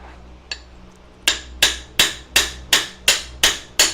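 Hammer hitting a metal engine mount on a Geo Tracker, eight sharp ringing strikes in a steady rhythm after one lighter tap, close and loud.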